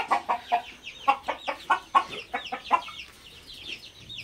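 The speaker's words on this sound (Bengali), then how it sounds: "এইটা হচ্ছে আমার কলম্বিয়ান ব্রাহ্মার একটা মোরগ।" A Colombian Brahma rooster clucks in a close series of about a dozen sharp, evenly paced clucks that taper off into quiet after three seconds, heard alone without talk.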